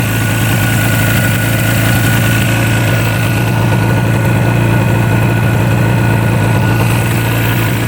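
A 1976 two-stroke motorcycle engine, revived after more than twenty years unused, idles close and loud at about 1500 RPM with a steady, even drone and no pauses or revving.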